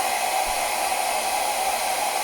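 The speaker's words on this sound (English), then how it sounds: "now it looks like I have to get my blow dryer out" A blow dryer on a low setting dries acrylic paint on a blue birds painting, giving a steady, even airy whoosh and motor hum, close and constant with no talk.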